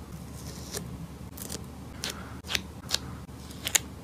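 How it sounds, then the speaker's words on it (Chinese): Lace washi tape is torn and handled with small blue tweezers at a journaling desk. Several short, crisp snips and crackles come close to the microphone, spaced irregularly over a quiet background. "用奶盖熊蓝色镊子优雅丝胶带"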